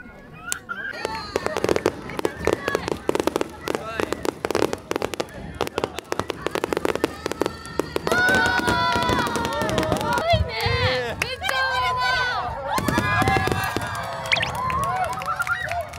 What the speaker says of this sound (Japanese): 打ち上げ花火 開始でございます。